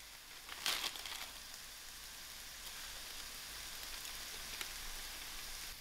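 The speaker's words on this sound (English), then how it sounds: "My mushrooms are almost fried" Mushrooms fry in a pot with a faint, steady sizzle that crackles throughout, opening with a brief burst of louder spitting and clatter near the start.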